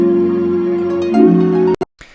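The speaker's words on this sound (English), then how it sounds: "All I did was I resampled all of my keys into this audio track here." Resampled keys bounced to a single audio track in a beat, a sustained warm chord that shifts once before cutting off abruptly, followed by a couple of brief clicks and faint residue.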